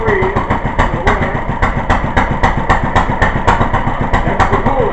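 A 1936 International Harvester LA water-cooled engine with a hopper-style cooling tank runs steadily nearby, its loud rhythmic chuffing firing beats repeating evenly throughout.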